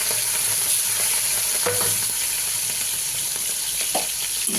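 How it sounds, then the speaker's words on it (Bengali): Shrimp frying in hot oil in a wok, a continuous bright sizzle with occasional spatula clinks and scrapes, close and alone. "আগে আমি চিংড়ি মাছটা ভেজে তুলে নিই"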